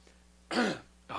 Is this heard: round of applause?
no